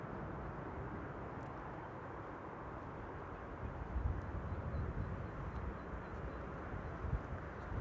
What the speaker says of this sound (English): Iberia flight 737, arriving from Madrid